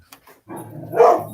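Dogs barking at home when someone comes to the door: a couple of faint yips, then one louder, close bark.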